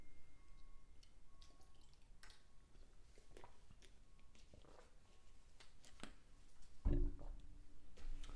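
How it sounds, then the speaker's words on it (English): Someone drinks water up close: a quiet run of faint swallows, small liquid drips and clicks in a hushed room, with a louder bump near the end. "let me drink water first."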